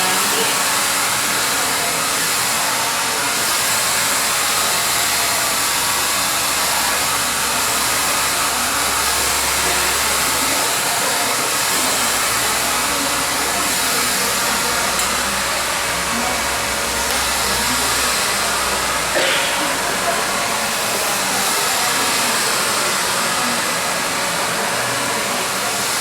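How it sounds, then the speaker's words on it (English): Steady, loud whoosh of a hair blow dryer in a salon, drying hair while it is styled with a brush, running continuously with only slight changes in pitch. "I'm keeping my blow dryer away from my brush."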